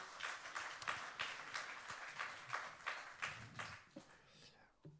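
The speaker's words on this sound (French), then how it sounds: "On peut encore l'applaudir pour cette présentation." Audience applause follows a scientific presentation on coastal atmospheric CO2 exchange, a moderate scattered patter of claps with distinct individual hits, thinning out toward the end.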